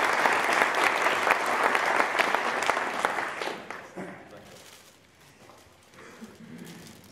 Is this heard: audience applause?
yes